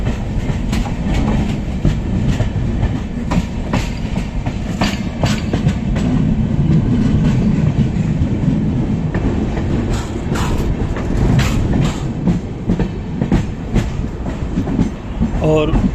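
Interior of the 22476 Coimbatore–Hisar Express on the Konkan Railway, with a steady loud rumble of the train running and faint rhythmic wheel clatter throughout, close and continuous.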